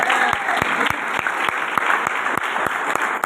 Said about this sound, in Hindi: उनके लिए भी ताली होना चाहिए